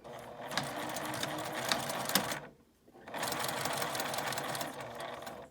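A sewing machine stitches a clear-window key case with a rapid, steady mechanical whir, pausing briefly for a back-stitch before running again at the same even pace.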